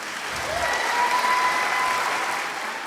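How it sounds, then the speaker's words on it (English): An audience at a teen pageant grand finale claps for four alumni on stage, a steady, full burst of applause that swells and holds throughout, with a faint tone ringing over it. "Can we have a round of applause for them,"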